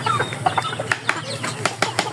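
Chickens being fed grain flap their wings in quick bursts and cluck softly nearby, irregular wing beats and scratching sounds crowding close together with faint voices in the background.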